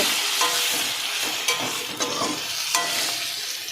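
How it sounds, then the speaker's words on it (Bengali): Bata fish curry with pointed gourd, turmeric and salt fries in a pan, a close sizzle punctuated by several sharp spatula scrapes and stirs, with no talking. "এটাকে আবার সুন্দরভাবে ফ্রাই করে নেব"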